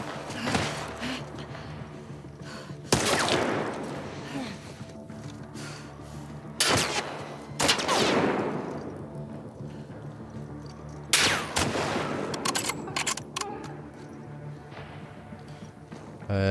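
Video game gunfire in several loud, sharp bursts spaced seconds apart, each a cracking report with a decaying tail, over a steady backdrop of game ambience.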